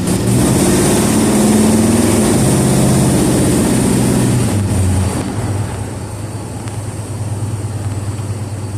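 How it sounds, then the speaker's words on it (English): A Ford E150 van with a swapped 351W V8 and turbo mufflers cruises down the road, giving a steady, fairly quiet low exhaust drone with road and cabin rumble that eases slightly partway through. "Turbo mufflers are pretty quiet when you're just cruising down the road."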